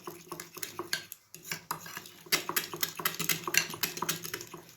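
Flour and cornflour batter being stirred in a bowl, a rapid run of clinking, scraping strokes from a utensil against the dish, close and steady with a brief pause partway through.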